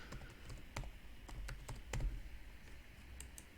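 Password being entered on a computer keyboard: scattered, distinct key taps over a few seconds with irregular rhythm, close and clear against a steady background hiss.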